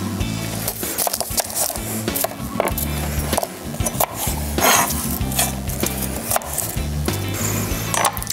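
A knife chops a shallot finely on a wooden board for a salsa, giving a quick, fairly even run of close, crisp taps.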